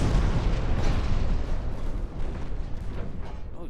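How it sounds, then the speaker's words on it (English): A heavy, booming explosion from a torpedo striking a warship in a naval battle game, loud at onset and rumbling with crackling debris as it slowly decays. "Torpedo hit."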